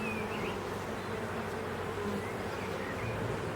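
Honeybees buzz around an opened hive frame, a dense, steady close-up hum of many wings with no pauses or voices.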